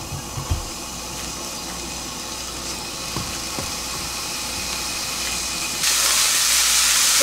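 Burdock strips stir-frying in oil in a frying pan, a steady hissing sizzle close up with occasional knocks and scrapes, growing brighter and louder near the end.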